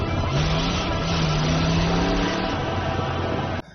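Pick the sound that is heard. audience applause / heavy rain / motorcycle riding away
motorcycle riding away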